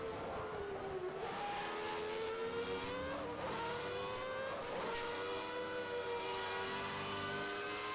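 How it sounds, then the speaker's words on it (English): Video game Ferrari race car at the Belgian Grand Prix accelerating hard, its engine screaming up through rising revs in a continuous loud whine, with a few brief sharp clicks of gear changes. "So Potter uses the Ferrari's power, steps on it to try and keep Spirichev away"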